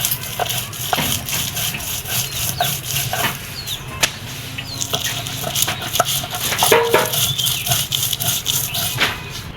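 Green chili, garlic and onion being ground by hand, a repeated rough rubbing and scraping rhythm with knocks of stone or utensil, close and fairly loud, with faint background noise.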